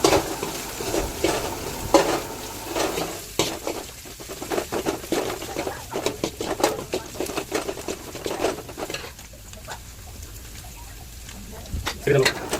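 Coriander dropped into hot oil in a village-style chicken curry pan, a continuous sizzle with repeated scraping and clinking of a stirring spoon, close and loud, with a voice talking over it at times.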